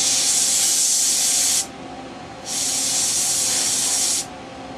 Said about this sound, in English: We can cool it off with the canned air.